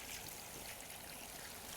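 Water pouring steadily into a pot of beans being cooked as a vegetable, a continuous close rushing splash throughout with no talk.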